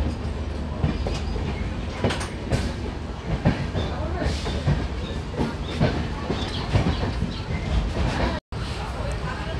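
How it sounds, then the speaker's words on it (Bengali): A train pulls out of Sealdah station, its wheels rattling in a steady clickety-clack with thumps and faint squeals, heard from inside the carriage while people talk over it. "শিয়ালদা স্টেশন ছেড়ে দিল একদম রাইট টাইমে ট্রেনটা"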